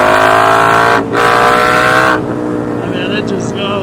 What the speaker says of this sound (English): That was a fourth gear pull just barely.